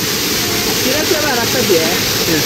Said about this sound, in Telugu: వాటర్ ఫాల్స్ చూడండి ఎలా వస్తుండే